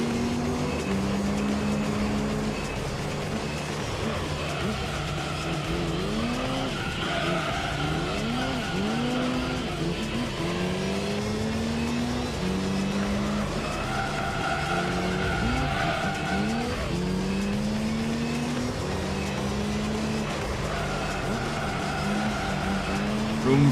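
A race car engine in the video game Gran Turismo 3 on the Laguna Seca track, revving continuously with repeated rising and falling pitch sweeps as it shifts through gears, loud and close with tire squeal throughout.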